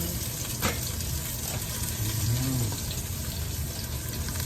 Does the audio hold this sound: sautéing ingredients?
yes